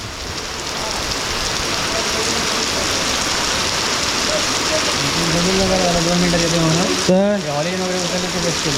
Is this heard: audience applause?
no